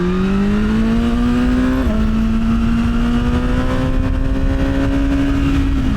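A 2025 BMW S1000R Sport naked motorcycle revs under light throttle, close and loud, its engine note holding a steady droning pitch that dips briefly and then climbs slowly again, with no talk.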